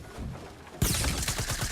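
Rapid SMG gunfire in a Fortnite-style building shooter erupts after a quieter stretch, a fast string of close, loud shots with no talking.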